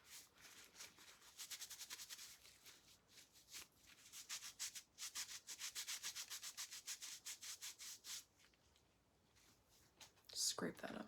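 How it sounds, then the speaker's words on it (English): Rhythmic scraping and rubbing against skin as something is scraped off a hand, close and steady in repeated strokes, pausing briefly before a sharper burst at the end. "scrape that off my hand as much as I can."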